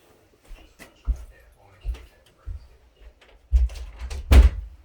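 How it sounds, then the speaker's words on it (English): An interior door is shut with a solid thud near the end, preceded by a few softer bumps and shuffles in a quiet room, with faint talk in the background. "Let me close this door."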